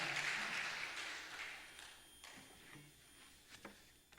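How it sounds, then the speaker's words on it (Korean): A church congregation at a Friday overnight service applauds, the clapping fairly soft and thinning out after a couple of seconds into a few scattered claps and taps. "하나님께 영광의 박수 올리겠습니다."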